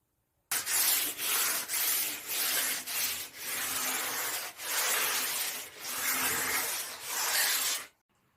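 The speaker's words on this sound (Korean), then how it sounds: "완전히 건조가 된 후에 표면에 붓털이나 이물질이 없도록 살짝만 고운 사포로 다듬어 줄게요." Fine sandpaper rubs lightly over a white water-based painted wooden dresser in a steady series of close, soft rasping strokes with short pauses between them. No voices are heard.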